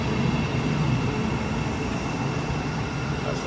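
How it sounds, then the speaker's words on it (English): A fast train from London passes with a continuous broad rumbling roar, steady and fairly loud throughout, with no talk over it. "That's the train from London."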